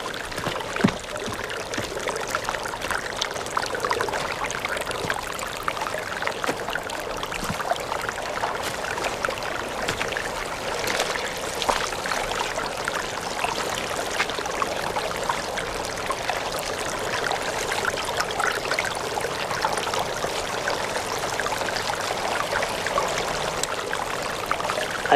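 Irrigation water gushing from a fitting knocked loose on a Colorado farm, a steady rushing, splashing pour that runs on without a break, fairly close and loud.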